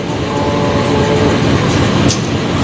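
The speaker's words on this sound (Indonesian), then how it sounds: "kereta api Sancaka fakultatifnya akan segera melintas. Lokomotifnya CC 201 9212." A Sancaka passenger train hauled by a CC 201 diesel locomotive rushes past at close range, a loud, dense roar of wheels and rail noise filling the whole moment without any voices.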